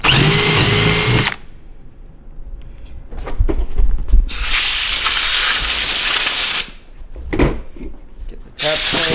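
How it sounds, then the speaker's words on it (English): Loud bursts of a power tool working on the fuel rail of a Honda S2000, three long whirring runs separated by quieter gaps with handling noises, close and harsh. "We're gonna tap the fuel rail and get the fuel pressure sensor installed."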